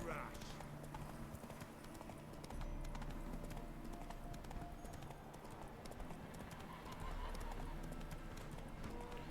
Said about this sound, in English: I could fast travel, but what's the point? I want to ride my horse.